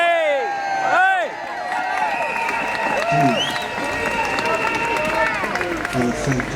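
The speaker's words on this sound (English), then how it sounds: "What a fantastic crowd." Crowd at a rally outside the Royal Courts, cheering, whooping and clapping loudly with shouted voices mixed throughout.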